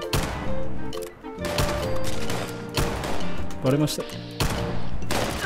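Revolver gunshots from the video game Fallout 76, several loud sharp bangs spaced a second or so apart over game music, with a person talking between shots.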